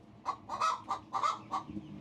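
Lavender Orpington hens clucking close by in a short run of five or six soft, rounded calls over a low background murmur.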